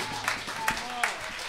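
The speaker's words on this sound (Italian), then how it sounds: "Applausi tiepidi." A jazz concert audience in Milan gives lukewarm applause: a few scattered claps rise over a quiet room, sparse and brief rather than a full ovation, while a voice speaks over them.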